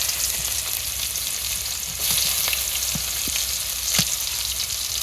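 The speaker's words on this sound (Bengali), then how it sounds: "পেঁয়াজ কুচি দিয়ে দিলাম," Chopped onion sizzling in a wok of hot oil, a loud steady crackle close by, with a few sharp taps and scrapes of a utensil against the pan.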